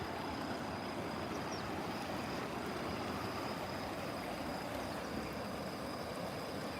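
A small stream in Iwakuni, Japan runs over little rapids, producing a steady, unbroken rush of flowing water with no pauses, close and fairly loud.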